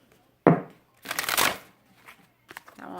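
Tarot cards shuffled by hand: a sharp riffle, then a longer burst of fanning cards, followed by a few softer short shuffles, close and fairly quiet.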